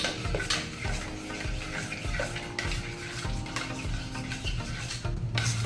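A spoon scrapes and clinks against a pan while sweet-sour raw mango chutney is stirred, with steady wet stirring and sizzling throughout and no talking.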